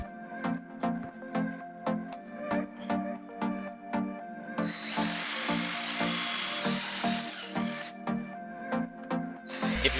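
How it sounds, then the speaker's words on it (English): A power drill bores holes into the wooden legs of a wobbly chair, first in a string of short rhythmic bursts, then in one long sustained whine close up. "go ahead and drill out all 4 legs"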